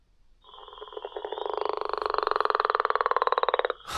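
Northern leopard frog calling alone: a long, rapid rattling snore of evenly pulsed croaks that swells louder and steadies before stopping abruptly, close and clear.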